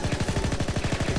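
Rapid, evenly spaced gunshots from a pistol in the anime shooter game Gun x Dimension, a loud, dense burst of about a dozen cracks in just over a second, with no voice over it.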